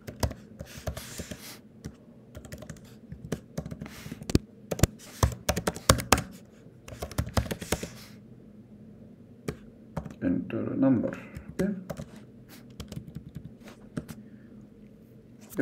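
Rapid clattering keystrokes on a computer keyboard while Python code is entered, coming in quick bursts with short pauses, close and fairly clear beneath occasional talk.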